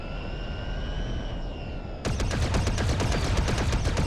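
Rapid blaster fire from a starship in LEGO Star Wars: The Skywalker Saga starts abruptly after a steady engine whine, a loud, fast stream of shots filling the rest of the moment with no talk.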